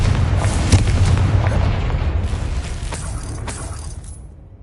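A Confringo spell blast in the video game Hogwarts Legacy gives a deep, booming explosion with a crackling burst that slowly fades over a few seconds.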